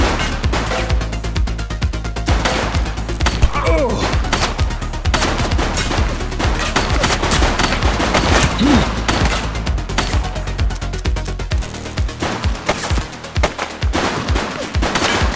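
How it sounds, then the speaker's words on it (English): Sustained, dense gunfire from the police video game The Precinct, set in the 1980s, with rapid overlapping shots and bursts filling the scene loudly throughout, along with game noise and brief voice fragments. "She's shooting!"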